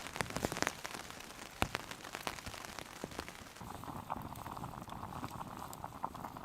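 Steady rain pattering on a tarp canopy at a solo jungle camp, a dense continuous patter with scattered sharper drops, close and even throughout with no voices.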